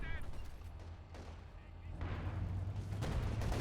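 Anti-tank gun firing in the Company of Heroes 2 battle game, heavy booming shots over a rumbling battlefield din, growing louder toward the end, with commentary running underneath.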